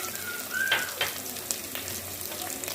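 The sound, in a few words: ginger and curry leaves sizzling in hot cooking oil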